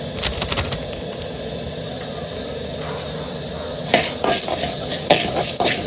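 Urad dal roasting dry in a pan over a medium flame for homemade sambar powder, with a steady scraping, rattling stir and clinks of the utensil against the pan, growing busier near the end.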